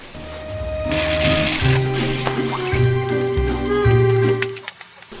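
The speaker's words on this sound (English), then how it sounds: "I squeegee everything to the drain" A squeegee pushes standing water across a floor toward a drain after a 5000-gallon pond leak, giving close, wet squishing, sloshing and dripping strokes in rhythmic pushes, with a bit of talk in the background.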